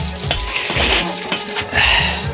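Onion bhaji (pakora) frying in oil at a village fair in Chhattisgarh, a steady close crackling sizzle with occasional stirring and soft clinks, no talk.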